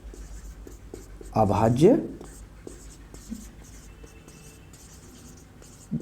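Pen scratching on paper while a teacher works through a Class 10 prime factorisation lesson, with soft, steady writing strokes running beneath a man's spoken explanation, which swells briefly midway.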